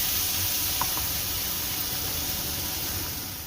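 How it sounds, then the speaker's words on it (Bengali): Spices hiss and sizzle steadily in hot oil in a wok while cooking lau chingri, a loud continuous frying noise with no pauses and no talking. "কড়াইতে এবার মশলা দিয়ে কষিয়ে নেব।"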